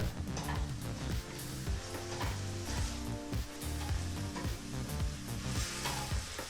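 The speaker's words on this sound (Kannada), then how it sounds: "ಒಂದೆರಡು ನಿಮಿಷಗಳ ಕಾಲ ಫ್ರೈ ಮಾಡ್ಕೋಬೇಕಾಗತ್ತೆ" Mushroom fried rice frying in a pan with garam masala and pepper, a loud continuous sizzle with a layer of dense rhythmic tonal background and repeated clanking stirs, with no voices.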